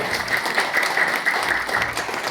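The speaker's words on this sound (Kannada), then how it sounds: "ಅವರಿಗೆ ಜೋರು ಚಪ್ಪಾಳೆ" A crowd claps steadily in sustained applause, dense and continuous for a couple of seconds.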